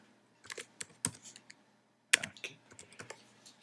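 An email address is typed on a computer keyboard: close, crisp key clicks in quick irregular bursts with a short pause midway, the last stroke before the pause louder.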